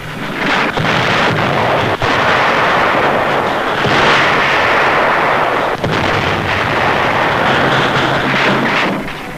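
Tank gunfire in 1945 World War II newsreel battle footage booms in heavy repeated blasts over a dense rumble of combat noise, loud and continuous without narration.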